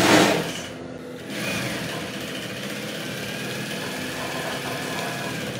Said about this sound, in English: This is a stay stitch that we want to run.